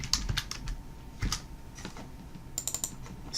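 Clicky keystrokes on a computer keyboard tap out a short name, coming in uneven little bursts with pauses between, close and clear with no talking.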